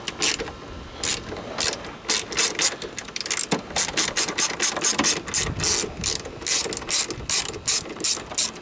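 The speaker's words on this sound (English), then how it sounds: "Now we should only need an 8mm socket, or if you'd like you can use the Phillips head, Phillips cutout on these." A ratchet with an 8mm socket backs out taillight screws on a Honda Civic, its rapid clicking pawl running in repeated bursts throughout, close and loud, with no talking.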